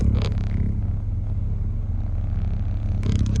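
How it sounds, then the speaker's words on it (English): An Audi Q7 in reverse gear gives off a steady, loud low-pitched rumble and droning vibration with no voices, broken by brief louder rattles at the start and near the end. "I'm noticing quite a bit of a vibration. When the car is in gear, like in reverse, as it is right now,"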